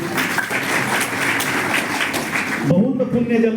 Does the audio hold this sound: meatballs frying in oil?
no